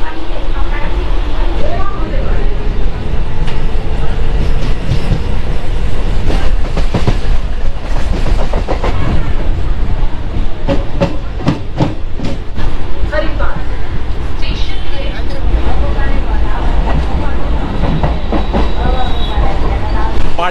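A Howrah to Tarakeswar local train rumbles steadily along the track, with clattering wheel beats and rattling carriages heard from inside, a voice talking over the constant rolling noise.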